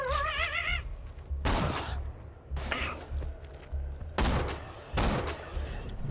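Gunfire in Borderlands 2, several sharp loud bursts of shots spaced irregularly with an electronic warbling tone at the start and game ambience between volleys.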